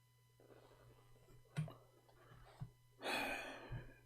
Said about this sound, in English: We hear you breathing.